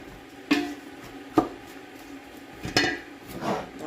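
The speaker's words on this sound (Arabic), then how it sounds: "ضروري كنبقاو نحركو حتى كيتقلى لينا اللحم" Meat frying in a pot for couscous, stirred by hand: a handful of sharp clanks and knocks of a spoon against the pot, spaced irregularly over a faint sizzle, close up, with no talking.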